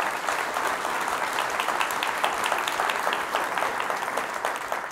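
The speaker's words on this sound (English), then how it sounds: "Big round of applause." A conference audience gives a steady round of applause after a talk, many hands clapping in a dense, even wash that holds at moderate loudness throughout.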